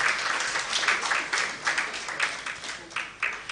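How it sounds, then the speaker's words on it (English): An audience at a plastics economy launch event applauds a steering team: a short burst of close, busy clapping that rises and falls in uneven waves. "Please, another round of applause for them"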